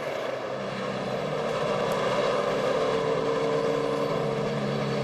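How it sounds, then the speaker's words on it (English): A NASCAR stock car engine drones steadily at a distance at Homestead-Miami Speedway, a continuous mechanical roar with a slight rise in pitch, heard alone without voices. "Hear the engine running around."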